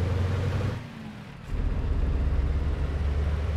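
A Scania V8 BDF tandem truck in Euro Truck Simulator 2 rumbling with a deep, loud engine drone that dips briefly, then surges back heavier as it accelerates.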